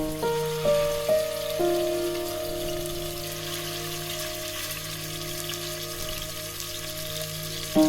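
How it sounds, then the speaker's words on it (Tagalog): Chicken frying in oil in a preheated pan, a steady crackling sizzle throughout, with a few soft clinks and a faint background hum. "In a preheated pan, add oil and then fry your chicken."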